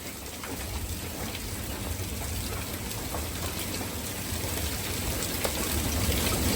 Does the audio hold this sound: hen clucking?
no